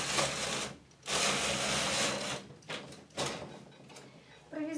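Knitting machine carriage sliding across loosely worked rows for a scarf, a series of rasping, whooshing passes broken by brief pauses and a faint click near the end.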